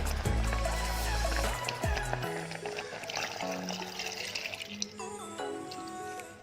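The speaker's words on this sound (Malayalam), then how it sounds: "അപ്പോൾ നമുക്ക് ഇതിലേക്ക് പാൽ ഒഴിച്ചു കൊടുക്കാം." Milk is poured into a pot of cooked sago while making a pumpkin sago payasam, giving a steady liquid pour with low sloshing at the start that settles into softer trickling and gentle stirring noises.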